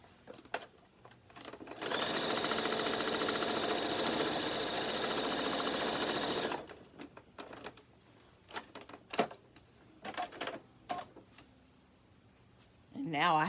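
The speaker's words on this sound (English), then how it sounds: "If I nest those together, then I can sew that" A sewing machine stitches seams joining quilt patches for an embroidered quilt block, running in one steady loud burst of about four and a half seconds, followed by quieter handling noises, clicks and a short voice near the end.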